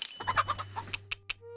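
A chicken on a ranch in the Tales of Arise video game clucks in a quick, uneven series of short calls, fairly close, over a low steady background hum.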